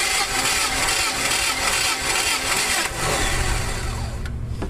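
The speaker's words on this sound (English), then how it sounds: "Now we crank the engine about 5 times to get an accurate compression reading." A car engine cranks continuously on the starter during a compression test with a gauge in the spark plug hole, a loud steady churning whir with a faint rhythmic pulse that stops near the end.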